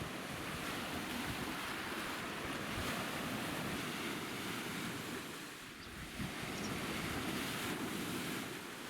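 High waves rolling onto a Lake Baikal shore, strong enough to stir up weeds and sand, give a continuous loud surf wash. Gusty wind noise hits the microphone, with a brief lull midway.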